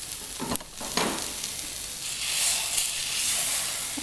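Tofu pieces sizzle and fry in a hot pan, a steady close hiss with a couple of brief stirring or turning knocks near the start.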